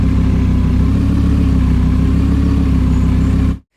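A car engine hums at a steady, loud idle with a deep pulsing rumble, then cuts off abruptly.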